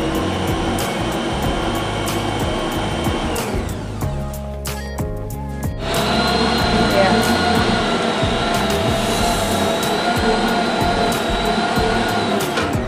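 An electric stand mixer hums steadily while kneading bread dough for a soft Indonesian roti sisir, a continuous motor drone that drops out briefly near the middle and returns slightly louder, with a voice talking faintly over it.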